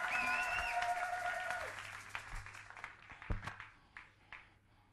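Church congregation applauding, a scattered burst of clapping that thins out into a few sparse claps, heard faintly after a sustained tone fades away.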